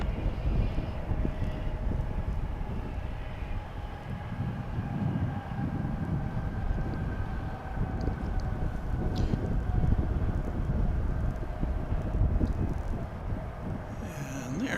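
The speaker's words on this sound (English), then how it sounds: "there's our first UPS arrival of the morning" A UPS cargo plane arriving at Dallas/Fort Worth International Airport, its steady, broad engine roar holding at a constant level from start to finish with no speech.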